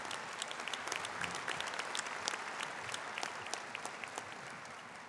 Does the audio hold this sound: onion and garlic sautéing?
no